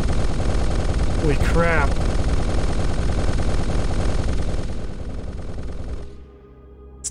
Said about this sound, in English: Engage. Your amazing autocannon.